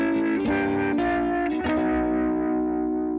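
A distorted electric guitar plays a quick fill of sustained double-stop triad shapes, with several sliding changes between chords ringing with effects and reverb, and no voice over it.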